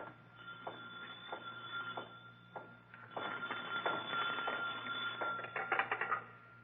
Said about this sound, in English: Suddenly, a phone rings on the desk of the night watchman, rings and shatters the silence of this modern tomb of ancient art.